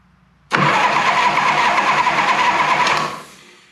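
A 1982 Harley-Davidson FXR Shovelhead engine cranking on the starter with a compression tester fitted to the front cylinder, a loud, close, steady churning drone that starts abruptly, runs about two and a half seconds and then cuts out.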